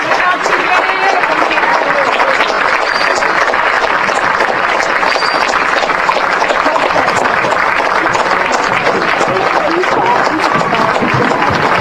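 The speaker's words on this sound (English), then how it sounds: "Nice round of applause to the crowd." A crowd at a Junction City versus Topeka High school football game applauds in a loud, steady wash of clapping and crowd noise that lasts throughout, with voices talking over it.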